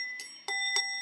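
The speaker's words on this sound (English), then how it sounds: "Let me just ring my bell to clear the energy." A hand bell rung during a spiritualist service gives three bright, clear strikes in quick succession, each ringing on with a sustained metallic tone, close and alone with no voices.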